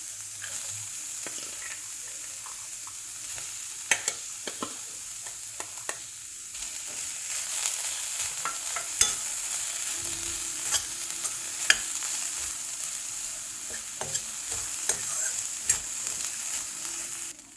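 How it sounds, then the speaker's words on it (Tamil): Cooked moong dal stirred into banana stem thoran in a pan, soft continuous sizzling with scraping and tapping strokes of the spoon throughout, fairly quiet and without voices. "இதில் இப்போ நான் வேக வச்சிருக்கிற பாசிப்பயறு போடுறேன்."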